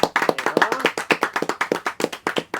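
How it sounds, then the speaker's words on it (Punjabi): A quick, brisk run of hand claps, close and loud, in an uneven rhythm that keeps going throughout, with no talking. "ਚਲੋ ਤਾੜੀਆਂ ਮਾਰਨ ਵਾਲੇ ਬੰਦੇ ਵੀ ਚਾਹੀਦੇ ਆ"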